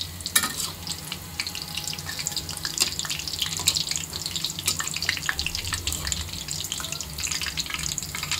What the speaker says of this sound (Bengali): আম্মু চলে গিয়েছে হচ্ছে পেঁয়াজু ভাজতে।